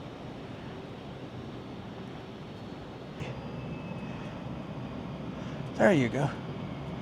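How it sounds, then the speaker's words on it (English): An American Airlines plane taxiing in at an airport, heard as a faint, distant, steady engine drone with a brief nearby voice near the end. "oh, there's a plane pulling in right now."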